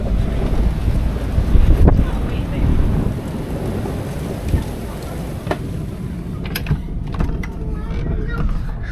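A strong wind and rain storm rages outside in mountain country, with heavy gusts buffeting the microphone, roaring and rumbling throughout and easing slightly toward the end.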